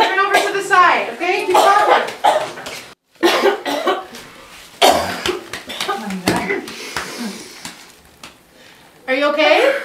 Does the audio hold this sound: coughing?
yes